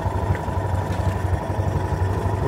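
A Honda motorcycle engine idles with its exhaust submerged under water at about 1470 rpm, a steady low, pulsing rumble that stays even and fairly loud throughout.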